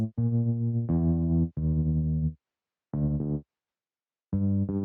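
Deep, distorted bass notes through Tape Sculptor's old tape drive setting, played in short phrases with gaps between them, the tone wavering slightly in pitch with a warbly, lo-fi character.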